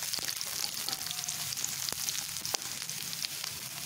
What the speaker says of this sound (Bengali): আমি রসুন কুচিটা দিয়ে ভেজে নিচ্ছি, ভালোভাবে একটু ব্রাউনিশ কালার করে ভেজে নেব।